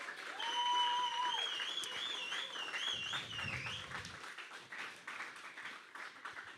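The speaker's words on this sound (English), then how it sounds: "Let's give it a huge round of applause." A crowd gives a round of applause at a camp's tenth-anniversary gathering, the clapping fairly soft and distant, with a whistling, warbling tone sliding over the start before the clapping carries on alone.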